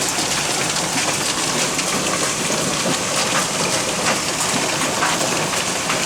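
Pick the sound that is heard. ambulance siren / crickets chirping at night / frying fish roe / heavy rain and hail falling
heavy rain and hail falling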